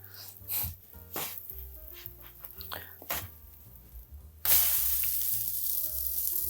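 Pumpkin spice protein pancakes fry in butter, with quiet clinks and scrapes at first, then a sudden loud, steady sizzle that fills the rest of the clip.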